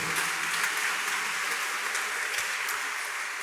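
Church congregation applauding together, a steady dense wash of clapping that holds loud and even throughout without pause.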